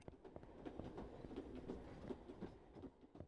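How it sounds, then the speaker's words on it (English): In the video game Therapy Simulator, a train passes a window, giving a faint, rumbling clatter of rail cars with a rhythmic clickety-clack that continues through the few seconds without any voices. "I love the fact the train goes past the window"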